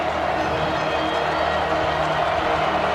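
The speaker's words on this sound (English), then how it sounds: "Listen to this crowd." A college football stadium crowd at a night game between Oklahoma and Alabama in 2024 roars in a dense, continuous wall of cheering that holds steady from start to finish.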